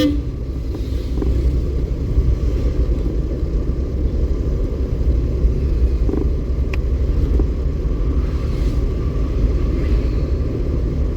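A car moving steadily on the road during a driving lesson, with a constant low engine rumble and road noise close up, and no change in pace throughout.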